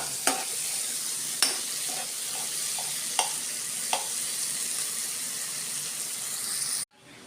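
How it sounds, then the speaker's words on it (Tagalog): Bitter gourd (ampalaya) sautéed with egg and tomato sizzles steadily in a pan, broken by several sharp spatula scrapes and taps, before a sudden cut near the end. "Gulay na ampalaya, ginisa sa itlog."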